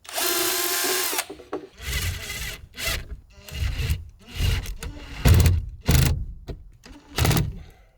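Power drill driving hex cap screws into the wall framing of a van conversion, with a long steady whir followed by a string of short, loud bursts as each screw is driven home.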